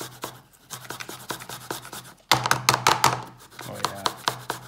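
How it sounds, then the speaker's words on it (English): Peeled ginger rasps against a hand grater in quick repeated strokes, close up, with a brief pause partway and then a louder, faster run of scraping. "we're just going to grate in the ginger"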